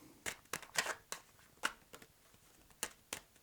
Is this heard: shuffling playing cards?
yes